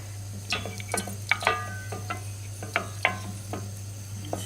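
Food melting in a pan is stirred with a wooden spoon, giving scattered light scraping taps and clicks over a steady low hum, with no talking.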